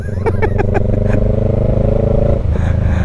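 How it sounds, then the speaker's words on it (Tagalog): Motorcycle engines idle and rev nearby on an outing to the Pililla windmills in Rizal, a loud steady rumbling drone with a few quick throttle blips early on and a pitch drop as one pulls away. "Ito mga motor oh."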